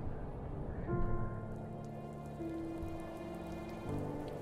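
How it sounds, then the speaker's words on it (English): Soft, steady rain patters through the atmospheric video game The First Tree, a quiet continuous wash heard alone under faint sustained music tones. "Ooh, rain."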